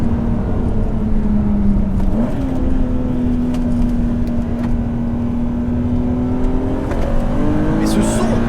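BMW Z3M Coupé with the 321 hp engine and stock exhaust line, revving steadily with a strong sustained drone whose pitch dips, then climbs again; close and loud throughout, with no voices over it.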